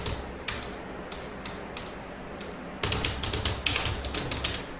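Keys are pressed on a keyboard while a C program waits for input: a few sparse, sharp clicks, then a faster, louder run of clacking strokes close by.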